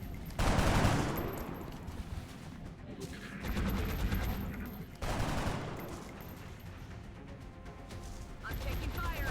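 Gunfire from the XCOM Long War strategy game in an Ironman Impossible campaign, loud repeated bursts and volleys clustered in waves with crashing impacts, filling the clip with a few brief gaps.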